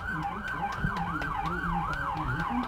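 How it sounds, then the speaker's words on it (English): Police car sirens at the Wheat Heart 2016 event wail in a steady rising and falling cycle, loud and close, with faint clatter underneath. "you can hear those police cars closing in pretty quickly"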